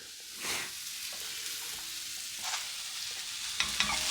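Frozen blueberries stirred into hot oats in a pan, a soft continuous scraping and sizzle at low level with no talking.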